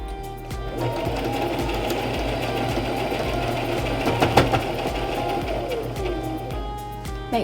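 A sewing machine stitches elastic into a fabric face mask, a steady close mechanical whirring hum with fast rhythmic needle ticking that runs continuously, briefly shifting pitch near the end.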